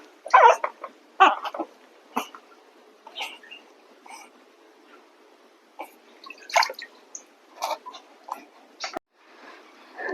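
Very young puppy bathed with plain water in a tub, with scattered close, high whimpers and yelps between quiet splashes and drips of water.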